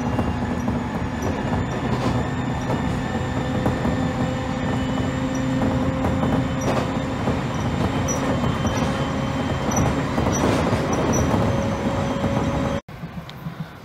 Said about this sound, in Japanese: 本日乗車する電車やってまいりました。 701系でございます。